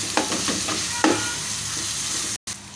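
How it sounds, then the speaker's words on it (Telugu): Ginger garlic paste fries in hot oil with a steady sizzle, broken by several scraping stirs of a spoon against the pan, ending in a brief cut of silence. "అల్లం వెల్లుల్లి పేస్ట్ కూడా మంచిగా ఆయిల్లో ఫ్రై అవ్వాలి"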